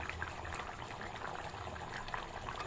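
Potatoes boiling in a pot for a Bengali vegetarian potato and pointed gourd curry, a soft steady bubbling and simmering hiss, faint and continuous with no talk.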